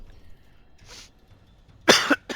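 A short breathy exhale, then a sharp, close cough with a quick second burst after a brief pause.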